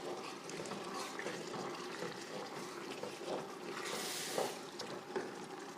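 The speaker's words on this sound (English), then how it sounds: "I'm going to add some wine, maybe like 1/2 cup, just to kind of deglaze the bottom of this pan." Red wine poured into a hot pan to deglaze the bottom while cooking Sunday gravy, a continuous wet splashing and hissing rush, close and fairly loud, swelling slightly toward the end.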